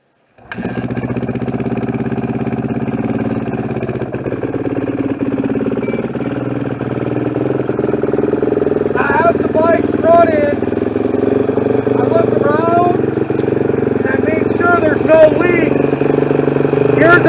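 A small dirt bike engine idles steadily and loudly for the whole stretch, with faint clatter and a voice briefly audible over it.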